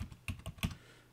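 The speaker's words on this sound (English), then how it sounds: "You can't see it here, but I'm typing my password." Quick keystrokes as a password is typed on a computer keyboard: four distinct clicks in about a second, close and clear over a quiet background.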